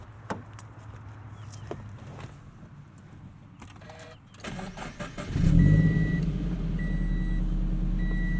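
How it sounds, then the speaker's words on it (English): Subaru BRZ with a catted UEL header and tune, the engine starting up and settling into a loud, close, steady burbling idle after quiet interior rustling. "A little bit louder, a little bit more of a burble there."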